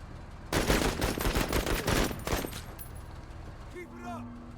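Rapid machine-gun bursts in the video game MENACE, a dense loud rattle of automatic fire for about two seconds that then tapers off, followed by quieter game sounds and a rising electronic tone.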